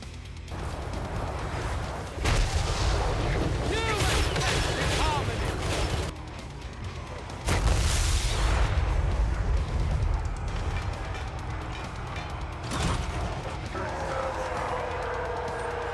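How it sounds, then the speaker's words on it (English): Cannon and harpoon launcher firing in Total War: Warhammer 3 with an orc pirates mod, heavy booming blasts at intervals over continuous battle din, loud and dense throughout. "We have the cannon here, and then we have the harpoon launcher."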